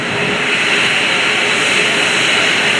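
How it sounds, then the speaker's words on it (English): A P-51 Mustang taxiing at the 2019 Dover AFB open house and airshow. A loud, steady engine roar fills the whole span without a break. "And the P-51 Mustang taxiing in front of you."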